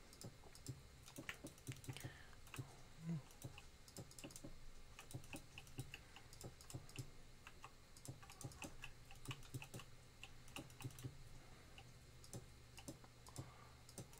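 Rapid computer mouse and keyboard clicks while placing blocks in the Minecraft video game, a steady stream of close, dry taps with no talk.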